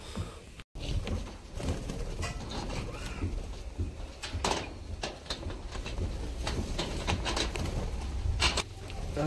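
Pet budgies chatter close by while eating egg food, with busy scattered chirps and rustling over a dense, continuous background.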